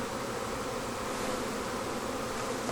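Honeybees swarming around hives being moved, a dense continuous buzz that stays loud and close throughout without a break.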